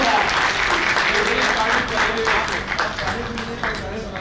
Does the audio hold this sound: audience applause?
yes